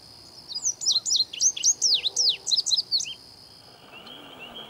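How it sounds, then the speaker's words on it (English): A songbird in Pennsylvania sings a quick series of bright, rapid chirping phrases for about three seconds, close and clear over quiet background, then falls silent. "Young songbirds learn their songs by listening to adults and practicing until they've mastered the pitch, rhythm, and structure of the adult song."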